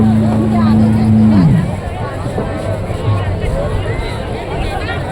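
Dense crowd hubbub at the Triveni Sangam ghat during the Maha Kumbh in Prayagraj on Mauni Amavasya, a steady wash of many voices with a passing engine hum at the start.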